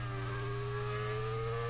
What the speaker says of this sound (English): these V8s sound very much like F1 2013